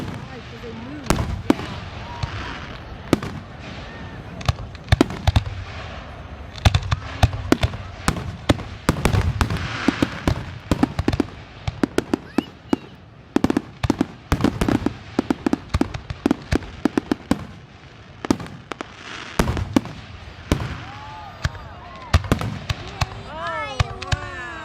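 Fourth of July fireworks burst in dense, rapid sharp explosions across a long stretch, loud and close with crackling tails, while people talk and exclaim over the bangs.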